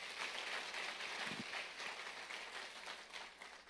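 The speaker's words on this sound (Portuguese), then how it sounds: "Você pode dar uma salva de palmas a Cristo?" A church congregation applauds during a sermon, a dense, steady wash of many hands clapping at a moderate distance for the whole stretch.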